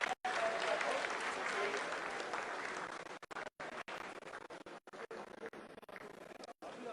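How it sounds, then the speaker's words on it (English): Sustained applause and cheering fill mission control during the Chandrayaan-3 lunar landing descent, a dense, steady wash of clapping lasting several seconds with brief dropouts near the end. "Lot of applause"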